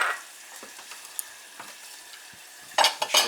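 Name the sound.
sauce simmering in a pan for Shanghai bok choy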